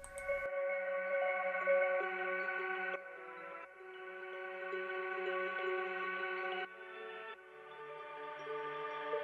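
Sustained chords from an Anna 2 software synth pad preset with a soft, airy tone, changing every few seconds, playing alone without voices.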